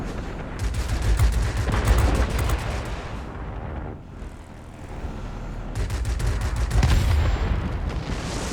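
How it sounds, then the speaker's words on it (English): Aircraft guns rattle in long rapid bursts in World of Warplanes, heavy gunfire over a deep engine drone, pausing briefly midway before firing again. "I'm very impressed by these guns."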